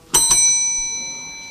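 A bell is struck twice in quick succession, giving two sharp dings. A clear, sustained metallic ring then decays slowly over the next second against a quiet room background.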